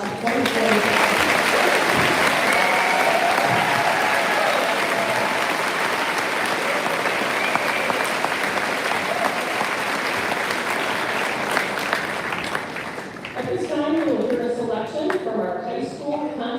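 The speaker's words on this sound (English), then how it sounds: "Let's do a big round of applause for the class of 2025." Loud, sustained applause and cheering from a large crowd at a high school graduation ceremony honoring the class of 2025, continuing steadily for many seconds before easing slightly near the end.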